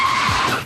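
A car's tires skid and squeal through a high-speed handbrake turnaround on a road at night, one short loud screech with engine noise underneath.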